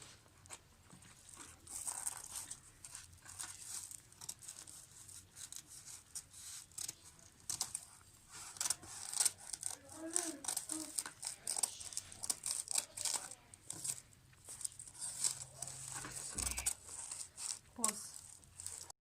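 Scissors snip and crunch through crochet tutu net pieces, quiet and close, with rustling of the netting between cuts and brief speech now and then.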